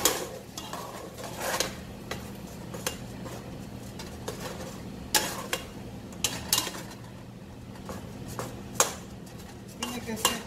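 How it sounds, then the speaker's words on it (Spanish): Chorizo frying quickly in a pan for potato and chorizo tacos, a soft sizzle under repeated clinks and scrapes of a utensil stirring against the pan, close and fairly quiet, with no speech. "que se fríe rápido el chorizo"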